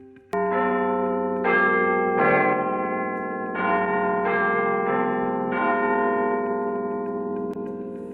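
Big Ben, the great bell of the Westminster clock tower in London, cracked and struck with a lighter hammer, sounds a series of loud, long-ringing strikes about a second apart, each rich in overtones and left to decay under the next, with no voices.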